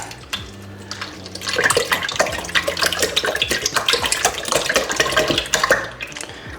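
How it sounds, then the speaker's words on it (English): Liquid egg whites poured into a bowl of freshly cracked eggs, a steady splashing gush lasting several seconds, close and moderately loud with no talking. "Then we're gonna add 1 liter of egg whites."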